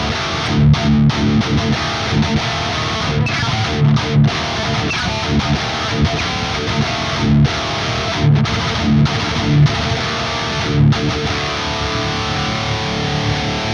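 Thick, crunchy distorted electric guitar played through a ToneX metal amp profile chugs steadily with palm-muted bursts and short pauses, loud and close, no voices.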